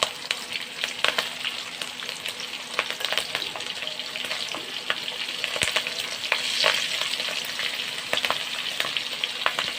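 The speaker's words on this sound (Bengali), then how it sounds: "এতে ফোড়ন দেবো কালো জিরা, মেথি, দেবো চিরা কাঁচা লঙ্কা" Nigella seeds, fenugreek and slit green chillies crackle and sizzle in hot oil, a close, busy hiss with scattered sharp pops and occasional stirring clicks, no talk over it.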